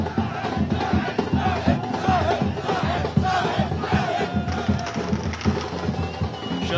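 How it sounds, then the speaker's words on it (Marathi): NCP party workers cheer and shout together in a loud, dense crowd celebration that roars continuously with overlapping voices. "राष्ट्रवादी काँग्रेसच्या कार्यकर्त्यांनी एकच जल्लोष केला"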